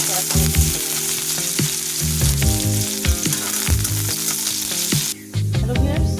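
Garlic and onion sizzle and fry in a pan as they are stirred, a steady close crackle with repeated scraping and clinking strokes throughout, and a brief dip in the sound near the end.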